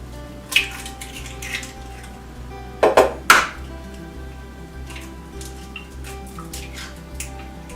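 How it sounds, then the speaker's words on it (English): Two large eggs cracked against a bowl edge, giving a quick cluster of sharp cracks and taps around the three-second mark, fairly close, with a lighter tap earlier over a low steady hum. "now I'm going to crack 2 large eggs"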